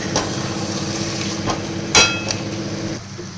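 Bottle gourd curry being stirred in a pan, with a low steady sizzle and a few sharp spoon knocks against the pan, one louder clatter near the middle, close and without voices.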